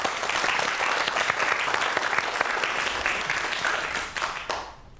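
An audience at a Korean science-and-magic lecture claps loudly and continuously for about four seconds before the applause quickly fades out.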